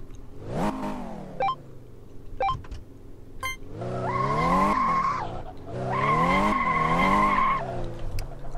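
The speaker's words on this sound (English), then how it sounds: "Even in second gear, when you set off at like least possible RPM, it'll spin its wheels like crazy." A car in the Car Mechanic Simulator 2015 game spins its wheels as it sets off in second gear. The engine revs rise and fall while long, loud tire squeals and skids come in two sustained bursts, with a few short beeps earlier.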